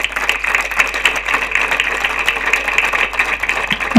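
An audience applauds at a public ceremony in Cutral Có, honoring the workers who built a civic project. The clapping is dense, steady and continuous throughout, with no voices over it.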